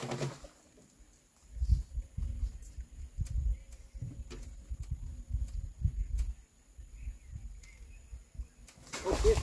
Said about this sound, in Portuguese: escutando os passarinhos